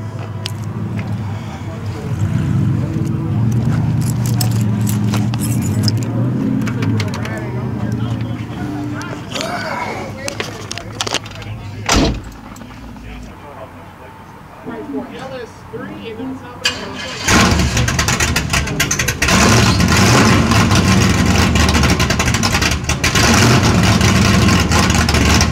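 A 1969 Chevy Chevelle SS V8 cranks and catches, then idles roughly. After a brief lull it is revved hard and loud, close to the microphone.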